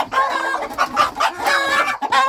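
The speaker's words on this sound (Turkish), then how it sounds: "Şu horozu çıkartır mısın?" Breeding rooster and hens in a coop in Muğla, Turkey, clucking and squawking loudly at close range in quick overlapping bursts, with no talk.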